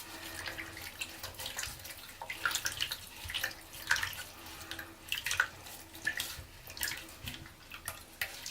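Running water from a tap splashes and sloshes steadily, with uneven surges as raw suri alpaca wool is rinsed under the flow, close by and moderately loud.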